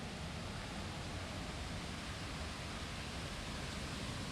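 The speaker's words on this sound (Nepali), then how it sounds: "छागो रहेछ, पानी खसिरहेको।" A waterfall on a hillside trail near Ho Pui Reservoir in Hong Kong, heard as a constant, even rushing roar of falling water that fills the whole moment without voices.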